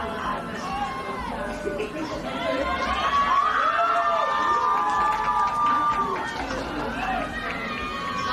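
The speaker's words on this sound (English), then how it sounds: "you can hear all the yelling from the crowd and from the coaching staff on the other side of the field" Crowd yelling at a varsity girls' lacrosse game, with spectators and a coaching staff shouting across the field in a steady, overlapping babble of cheers and calls, swelling midway, heard from a distance.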